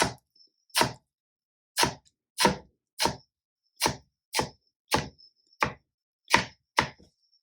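A knife slicing an onion very thinly on a cutting board: eleven crisp, evenly spaced chops, close and distinct, with silence between strokes.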